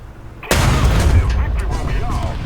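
A KW II 754 (r) tank gun fires once in War Thunder with a sudden loud, close boom, then a long heavy rumble that rolls on and slowly fades.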